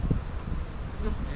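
Honeybees buzzing around an open hive during a split inspection, a brief steady droning hum close by with no pauses.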